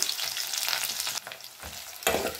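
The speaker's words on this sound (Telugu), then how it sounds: "సో ఆనియన్స్ బాగా ఫ్రై అవ్వాలి." Sliced onions fry in hot oil with mustard seeds and curry leaves for a dry fish curry, a steady close sizzle broken by stirring scrapes, with no voices.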